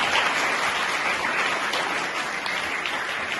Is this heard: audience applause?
yes